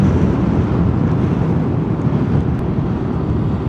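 Strong wind buffeting a microphone at Malico, Pampanga, a loud continuous low roar and rumble with no pauses, no voices.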